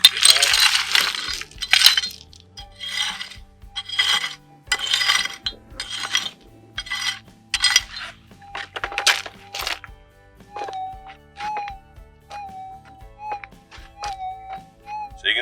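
A Minelab GPZ 7000 metal detector over a gold nugget target gives repeated short tones, first rapid scraping-like bursts as dirt is moved, then a series of clear rising beeps in a steady rhythm, close and alone.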